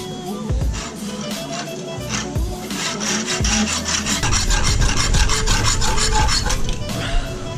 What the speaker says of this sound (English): And then you're just gonna saw along that line.